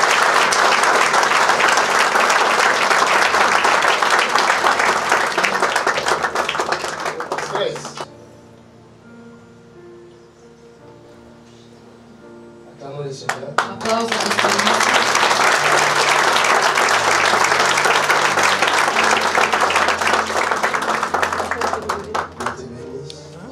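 A church congregation bursts into loud, dense applause, fades to a quieter spell with a few voices, then erupts into a second long round of clapping.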